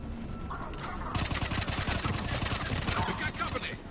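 Rapid automatic gunfire crackles through a video game battle, a dense, loud rattle of shots after a short quieter lead-in, with voices faintly beneath.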